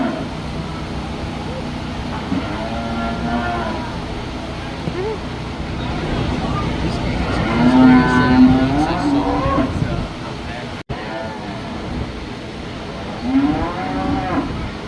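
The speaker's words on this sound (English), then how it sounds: "Big cow." Cattle at a summer fair moo repeatedly, with long drawn-out calls rising and falling, some loud and near and others farther off, over a constant murmur of background noise.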